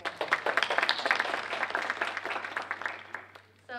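Audience applause at a university student government civic engagement event, a modest crowd clapping steadily at moderate volume before fading out.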